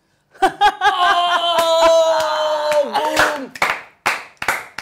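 A few slow, deliberate hand claps spaced out over several seconds, close and distinct, while a voice sings a sustained note and laughter breaks out near the end.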